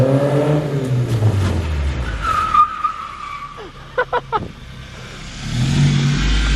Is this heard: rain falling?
no